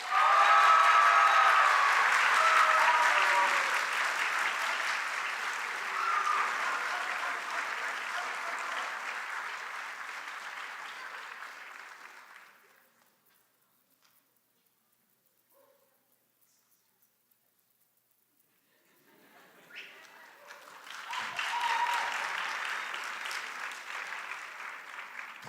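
Steady applause from an audience at a high school academic awards ceremony, loud and continuous, fading into near silence midway before clapping swells up again.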